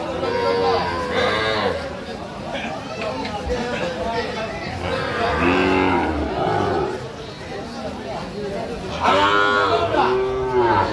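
Cattle and calves lowing repeatedly at a village livestock market in Raipura, Narsingdi, with deep, drawn-out moos rising over a steady background of crowd chatter and people talking nearby.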